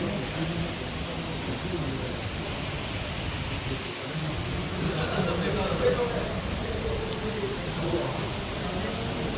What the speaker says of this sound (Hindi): और अभी अभी ये बरसात हो रही है उदयपुर में।